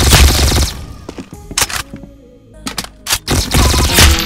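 Rapid gunfire from a 1v1 shooter video game, loud bursts of automatic fire at the start and end with sharper single shots and brief pauses between them, no talking over it.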